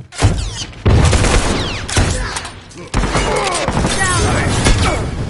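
A grenade blast and bursts of gunfire in The Last of Us Factions, loud close booms and crackling shots echoing in two or three heavy bursts, with voices shouting over the combat.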